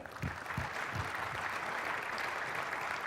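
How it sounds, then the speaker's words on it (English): Sustained applause from a keynote audience, steady dense clapping that carries through with a few louder claps near the start. "give those guys a round of applause"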